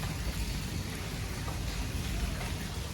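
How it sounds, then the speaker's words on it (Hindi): Steady rain falls outside a village home in India, a continuous soft hiss of drops with faint low rumbling underneath, moderately distant and fairly quiet. "बाहर बारिश हो रही है"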